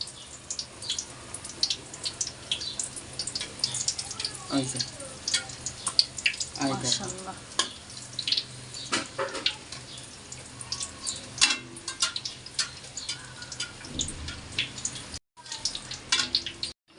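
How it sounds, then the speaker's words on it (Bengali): Eggplant fritters (beguni) frying in hot oil, with a steady crackling sizzle and scattered sharp pops running throughout, while a voice speaks briefly over it. "এই দেখো এবার বেগুনি ভাজবো, এই যে কিভাবে সুন্দর করে ফুইলা উঠছে।"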